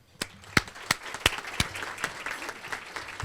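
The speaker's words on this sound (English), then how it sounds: "I want to give them a big round of applause." Applause from the audience at a regional chamber of commerce meeting: a few separate sharp claps first, then a steadier patter of many hands, moderately near, with no talk over it.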